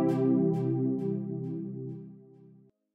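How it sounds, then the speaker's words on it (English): A three-note chord from a synth in FL Studio, a single sustained tone with soft repeated attacks, fading gradually and stopping cleanly after nearly three seconds, heard alone. "I got here a 3-note chord, which sounds like this"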